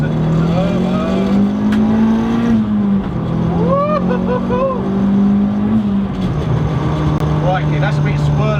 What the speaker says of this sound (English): Let's have some turbo action. Foot to the floor. Here comes the turbo.